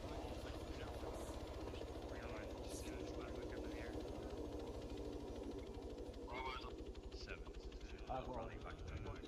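A helicopter in ArmA III spools down on the deck, its steady rotor and turbine drone filling the clip while voices talk faintly over radio chatter.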